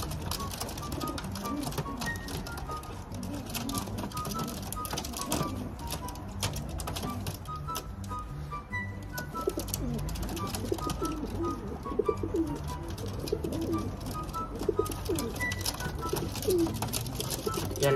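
Pigeons kept in a loft coo in low, repeated burbling calls over a busy mix of scratching, fluttering and light tapping that runs throughout, close and fairly steady, with a person's voice faintly underneath.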